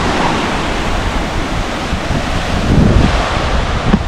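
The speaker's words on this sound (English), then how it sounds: "Rough tide coming in on this beach" Rough surf rolls onto a beach in Trinidad, a loud, continuous roar of breaking waves with wind buffeting the microphone and a few heavier surges near the end.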